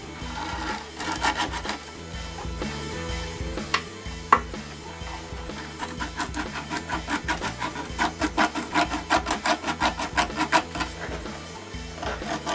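A spalted maple yarn bowl being sanded with 60 grit sandpaper, likely spinning on a lathe, giving a continuous gritty rubbing with rapid pulsing strokes that grow stronger toward the end, heard close up.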